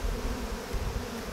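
Bees buzz in a dense, steady drone throughout a hive transfer, close and continuous for the whole short stretch.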